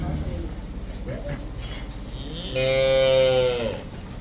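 A Jersey cow on a farm lets out a single loud, drawn-out moo lasting about a second, close by, after a stretch of background farm noise and quiet chatter.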